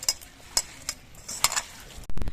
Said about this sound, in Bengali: নুনটা দিয়ে বেশ ভালো করে মাখিয়ে এনে নেব